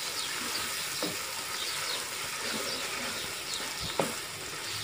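Chicken with tomato and spices being stirred in a frying pan, a steady close sizzle with soft scraping of the spoon and one small knock, no voices.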